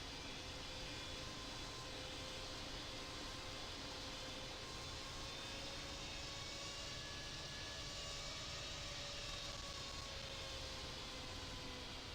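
Airliner taxiing toward runway 2 left at Singapore Changi in the Infinite Flight game: a steady, continuous jet engine hum with faint whining tones, holding at an even, moderate level throughout without talk.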